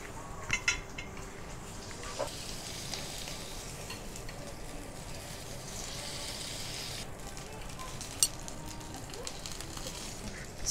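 A Kobe beef meal cooks with a steady, close sizzle that runs throughout, broken by occasional light clinks of utensils and pans.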